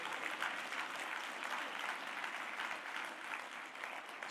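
A church congregation claps hands in praise during a worship service, a steady, dense wash of applause from a crowd that holds evenly throughout, moderately distant and without speech.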